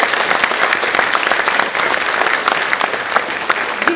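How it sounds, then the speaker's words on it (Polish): Audience at a Polish stage play about Mother Jadwiga gives loud, dense, sustained applause for the families of the cast, continuous clapping close and full throughout. "Brawa dla rodzin, dla reszty."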